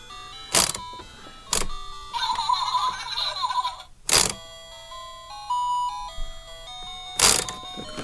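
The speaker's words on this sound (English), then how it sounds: "Oh, it plays different songs." A Fisher-Price Little People toy plays a tinkly electronic tune in simple beeping notes, interrupted by a few loud clunks and clicks from handling, with no talking.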